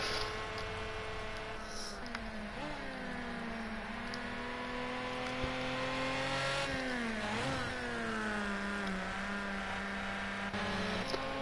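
Nissan Fairlady race cars lapping a circuit in a racing game, engines revving and shifting through gears with rising and falling whine, close and steady throughout, with other cars audible nearby.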